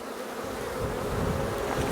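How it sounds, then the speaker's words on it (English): Honeybees crawling restlessly over hive frames during an inspection make a dense, continuous buzzing drone that swells slightly toward the end, with no voices. "These bees are quite what I'd call fidgety on the frames."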